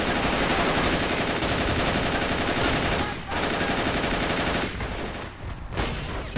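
Autocannon fire in the WWII Stalingrad battle game Men of War: Assault Squad 2 roars as dense, loud, sustained bursts. A few brief gaps break the rapid fire before it resumes.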